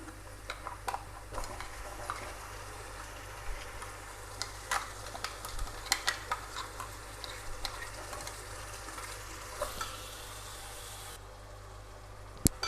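Onions and ground masala sizzle softly in a pan for fish curry, with a faint continuous frying hiss and repeated light clicks and scrapes of stirring, fairly quiet, with no talking.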